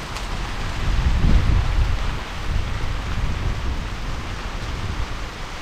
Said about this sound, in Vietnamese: Mưa tới dữ lắm rồi.